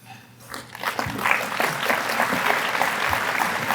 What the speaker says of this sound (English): Let's give Victoria and the nominees another round of applause